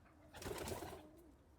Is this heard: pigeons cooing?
yes